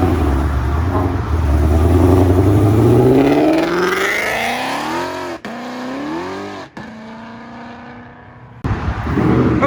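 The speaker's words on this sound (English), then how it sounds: "Oh, the GT500 pulling in." A Ford Shelby GT500 with a boosted 5.0 engine pulls in, revving loudly and rising in pitch through several gear changes with brief cuts between shifts, close and dominant over crowd noise.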